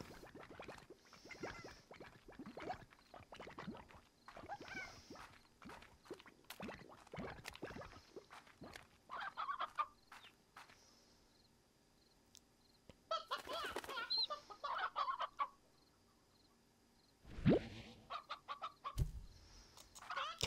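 Hens in the video game Slime Rancher cluck in short repeated bursts mixed with wing flaps and bloopy game effects, fairly quiet overall, with gaps of near silence in between.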